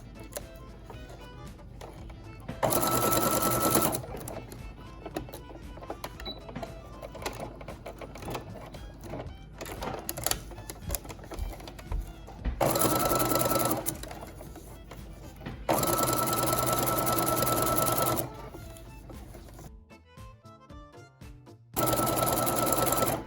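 A home sewing machine runs in bursts while back stitching a fabric face mask with a filter, short reversing runs broken by pauses, close and steady with no talking.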